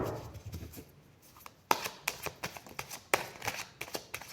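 Tarot cards are shuffled by hand up close, a quiet run of crisp riffling snaps and soft slides with sharper flicks in an irregular rhythm, with no one talking.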